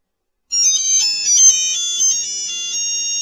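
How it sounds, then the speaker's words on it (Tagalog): After half a second of silence a phone ringtone starts abruptly, a loud, bright electronic melody of high tinny tones that keeps playing steadily to the end, with no talk. "Kaya kasi yung gulo na ito ringtone ko eh"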